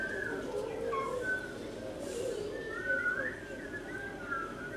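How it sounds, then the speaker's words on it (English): Birds calling outdoors, a steady stream of whistled and cooing notes running continuously at moderate level against a constant background hum. "you guys hear these birds?"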